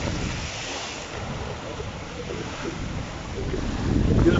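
Strong wind roars and heavy sea surges at Whitby on a rugged, cold day during Storm Isha, a steady broadband rush that swells louder toward the end.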